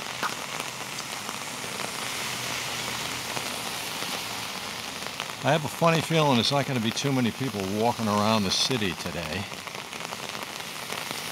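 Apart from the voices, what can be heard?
heavy rain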